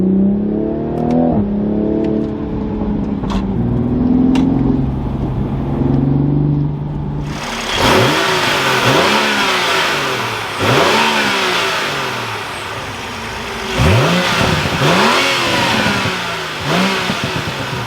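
Toyota Supra A90 in sport mode, first idling with a couple of short revs, then a loud burst into repeated hard revving, each blip rising and falling with crackling exhaust pops between them.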